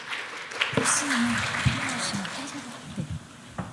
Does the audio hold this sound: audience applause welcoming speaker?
yes